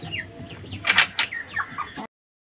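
Chickens kept in a cold, windy home coop cluck close by in a short burst of overlapping calls, with a few louder squawks in the middle and no voices.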